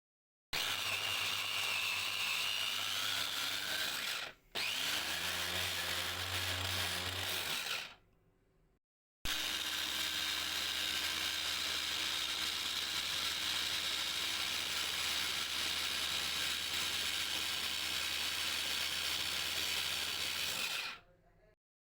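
A food processor whirs loudly, blending minced meat with chili harissa for hawawshi, a steady high-pitched motor drone in long bursts with brief stops between runs and no speech.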